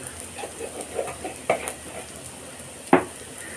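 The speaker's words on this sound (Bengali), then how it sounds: "তো টক দইয়ের মধ্যে আমি বিট লবণ মিশাচ্ছি" Black salt being stirred into sour yogurt with a spoon in a bowl, making soft, faint scraping swishes. Two sharper clinks of metal against the bowl stand out near the middle and at the end, with no talking.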